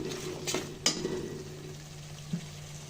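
Spiced masala with sour yogurt sizzles softly in a pan while being stir-fried for a chicken roast, with a steady low fry and a couple of sharp utensil clinks near the start.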